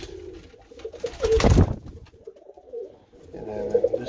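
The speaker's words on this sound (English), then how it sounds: "These are Pigeon." Young Birmingham Roller pigeons coo softly and close by, low throaty calls in short bursts with a louder flutter or rustle in the middle.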